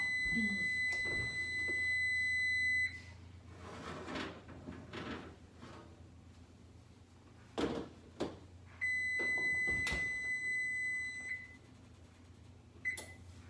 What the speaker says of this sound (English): Okay, timer's going off.